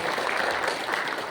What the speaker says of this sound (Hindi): सभी लोग तालियां बजा के उनका स्वागत कर सकते हैं।